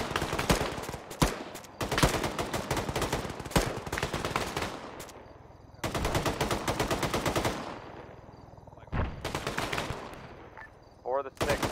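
Rifle and machine gun fire in an Arma military simulation game crackles in repeated bursts with short pauses between volleys, loud and close, while voices talk faintly under the shooting.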